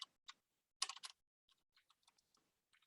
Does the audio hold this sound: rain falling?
no